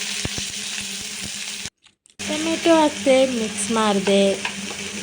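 Tomatoes tossed into a pan of browning salted onions give a steady close frying sizzle, briefly cut silent, then resuming under a person talking.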